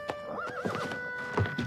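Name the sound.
horse neighing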